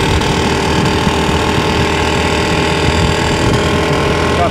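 An IŽ Jupiter 3 twin-cylinder motorcycle engine runs steadily and loud throughout, its dense, rough droning unbroken and close, with no voices over it.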